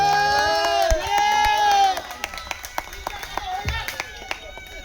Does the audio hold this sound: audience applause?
yes